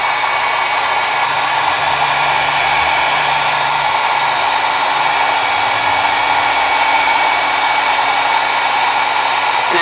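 A heat tool blows continuously and loudly close to the mic while heat-setting a high-shine finish on mixed media work, a steady whirring hiss with no pauses and no talking.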